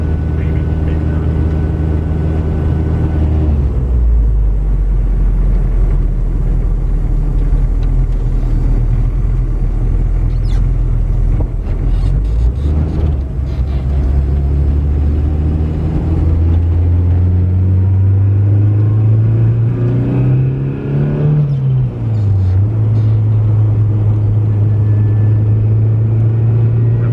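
A Honda Civic with a turbocharged K24 engine drives along with a loud, continuous rumble. The engine pitch climbs and falls as it accelerates and shifts, and a person speaks over it.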